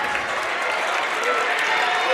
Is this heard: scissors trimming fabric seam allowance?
no